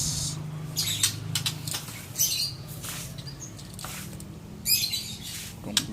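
An Oriental magpie robin released outdoors on a long tether line gives bursts of sharp, high chirps and squawky calls in several separate phrases, near and fairly clear over a low background hum.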